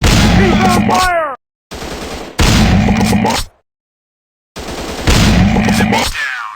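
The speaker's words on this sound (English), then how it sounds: "I'm shooting these fools up! Suppressive fire on target!" Loud bursts of automatic gunfire in a first-person shooter video game come in three separate volleys broken by short silences, with high metallic ringing and tails of shell clinks.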